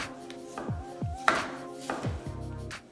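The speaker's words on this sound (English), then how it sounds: "Cut the potatoes thinly." A knife chops thin slices of peeled large potatoes on a board, several crisp, evenly spaced strikes close up with no talking.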